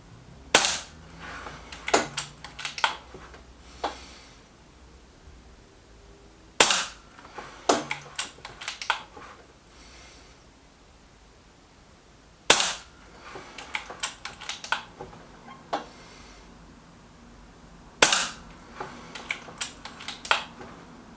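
Air Arms S510 air rifle firing JSB Match Diablo pellets, four sharp, loud shots spaced about six seconds apart, each followed by a quick clatter of cocking and handling noises, with no talking.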